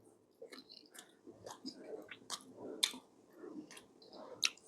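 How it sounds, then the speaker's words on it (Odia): Leftover dalma eaten with roti at breakfast, with soft chewing and biting sounds close by that come in a run of irregular bursts. Some crisp clicks break through, and no voices are heard. "ତେଣୁ ବାସି ଡାଲମାକୁ ରୁଟି ଖାଇବା, ଦେଖିବା କହିବା କେମିତି କ'ଣ ହେଇଛି।"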